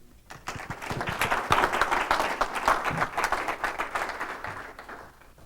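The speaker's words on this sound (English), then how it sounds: "round of applause for our speaker, Bill, and his dog," An audience claps for a speaker at an entrepreneur center event on Long Island, a dense round of applause swelling quickly, holding steady for several seconds and then fading out.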